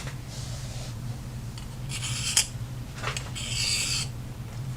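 A diamond cone hone rubs along the blade of a Joewell JT5 hair shear in quiet, close scraping strokes, several short rasping passes over a low background hum.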